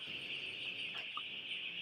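Faint, scattered clucks from brooding chicks being fed, under a steady high-pitched background hiss, with no talking.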